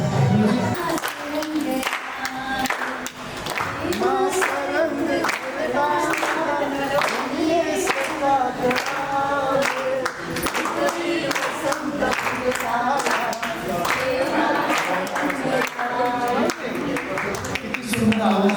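Family members clapping in rhythm along with a song sung at a 50th birthday celebration, steady repeated claps under singing and music that run continuously throughout.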